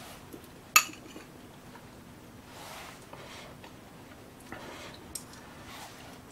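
A metal utensil knocks once against a pot while cooked potatoes in a meatless Brussels sprout and vegetable soup are tested, one sharp clink near the start, then a few faint taps over a quiet background.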